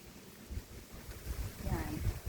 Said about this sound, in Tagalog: Yan yung hangin oh